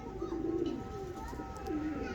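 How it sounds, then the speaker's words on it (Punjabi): Breeder pigeon cooing in a loft setup, a few low soft throaty coos rising and falling close by, with some background noise. "ਹੁਣ ਇਹ ਕਬੂਤਰ ਆ ਭਰਾ ਜੀ"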